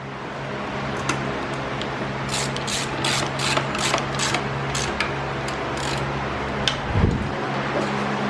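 A ratchet driving bolts while a new intake manifold is fitted. A quick run of close clicking bursts plays over a steady mechanical hum, then a few isolated clicks follow later.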